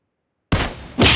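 A sniper rifle fires in the mobile battle-royale game PUBG Mobile: after a half-second of silence comes a sudden loud shot with a sustained tail, followed by a second sharp blast.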